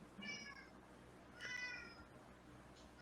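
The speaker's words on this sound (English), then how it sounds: "I hear cat" A cat meows twice, faint and somewhat distant, under a low steady background hum with no talking.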